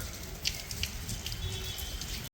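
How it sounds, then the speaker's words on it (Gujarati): Rain falling steadily in Surendranagar, a soft continuous hiss dotted with close, irregular drops and drips. "ભાઈ વરસાદની બેટિંગ ચાલુ થઈ ગઈ છે અને સારો એવો વરસાદ પડી રહ્યો છે"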